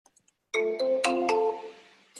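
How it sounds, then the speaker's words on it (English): An outgoing phone call rings on the line: a few faint dial clicks, then bright electronic ring tones sounding alone in quick succession before fading, with another tone starting at the end. "We're just going to make a phone call and see what happens."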